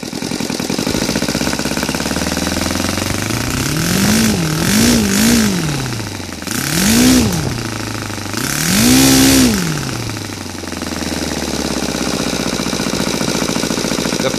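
A Saito FA 182T four-stroke model aircraft engine with CDI ignition conversion, turning an APC 16-8 propeller, holds a steady low idle and swells in several short revving blips before settling back, loud and close.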